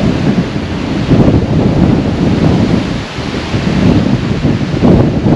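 Strong wind from an approaching thunderstorm in the mountains of Anatolia, Turkey, roars and buffets the microphone with a loud, continuous rushing noise that swells and dips in gusts, no talk.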